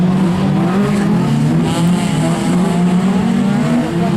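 Touring race cars, a Citroën BX and a Peugeot 206, charge downhill on a circuit with loud, continuous engine roar that stays close and steady throughout, with no talk over it.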